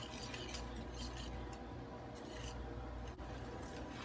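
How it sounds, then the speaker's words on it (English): A whisk scrapes and swishes through pumpkin pancake batter as dry ingredients go into the wet. The stirring is soft, steady and continuous, with a faint rasp against the bowl. "Give this a quick whisk until it's well incorporated."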